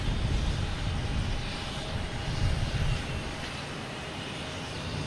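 An airplane takes off at Boston Logan Airport, a steady, broad jet engine roar heard from a moderate distance that holds fairly even throughout and dips slightly near the end.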